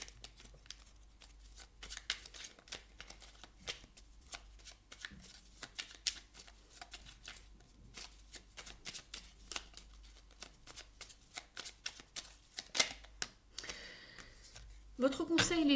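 Oracle cards being shuffled and drawn by hand in a tarot-style reading, a steady run of quick papery riffles and flicks close up, with a louder card slap and rustle near the end and a quiet voice speaking over it.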